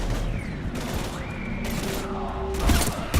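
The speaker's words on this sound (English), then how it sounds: "I've got Lieutenant Vega with me, but we're taking heavy fire." Heavy gunfire from a Mass Effect 3 Legendary Edition firefight against husks: bursts of shots and booms come in clusters over a steady background, with faint whooshing tones rising and falling.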